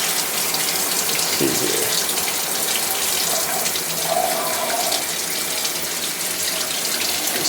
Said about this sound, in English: All our shower things engaging, so we have a nice little rainstorm going there